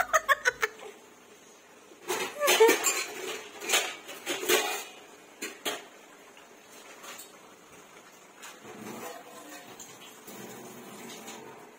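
Metal pots and pans clank and scrape in a home kitchen where a mother-in-law cooks moong dal with fish head and peas, sharp clatters bunching in the middle amid faint laughter and chatter.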